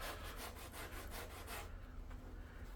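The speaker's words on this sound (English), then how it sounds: "So I'm going to just smooth it with a sanding block" Soft, rapid rubbing strokes of a sanding block smoothing a felt hat brim edge, a brisk rhythmic rasp that fades into a quieter hiss.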